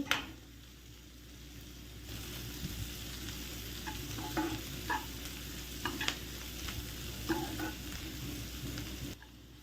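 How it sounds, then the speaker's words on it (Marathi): Guar bean thecha with its coarse spiced paste being stirred and sautéed in a pan over a lowered gas flame, a steady sizzle with repeated scraping and stirring strokes, close and clear. "आपल्याला एक दोन मिनटासाठी फक्त परतून घ्यायचं आहे"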